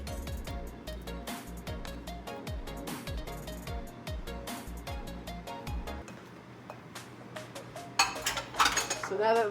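Banana bread batter is scraped into a metal baking mold, giving repeated clinks and scrapes of a utensil against the pan with a low hum underneath, followed by a burst of brighter rattling near the end.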